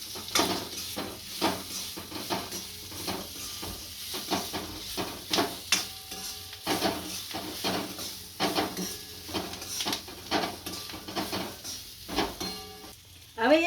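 Whole green chillies coated in gram flour fry in oil for Kathiyawadi-style marcha, with a soft steady sizzle under repeated scraping stir strokes of a spoon against the pan, fairly quiet and close.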